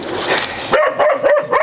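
A puppy whimpers, then yelps and barks in short repeated bursts, close and loud over a brief span.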